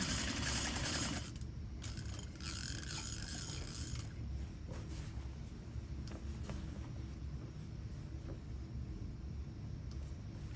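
Sewing machine stitching a shirt seam, running steadily and continuously up close with a mechanical rattling hum, no talking.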